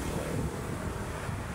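Steady wind roars across the microphone, a low, continuous rush with no pauses, loud and close throughout.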